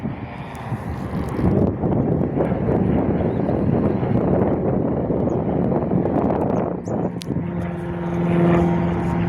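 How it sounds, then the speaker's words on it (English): A propeller-driven light aircraft flies past on approach back to Jandakot airport on a windy day, its steady engine drone loud and sustained throughout, with gusty wind buffeting the microphone. "Got one of the air-fueled planes returning to Jandakot."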